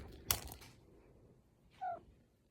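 A cat lying on a bed in a dim room gives one short, quiet meow near the end, after a brief soft knock, with the rest nearly silent.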